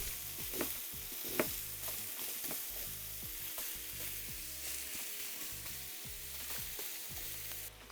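Pork fries in oil for shogayaki, a quiet, continuous sizzle with scattered sharp pops and crackles throughout.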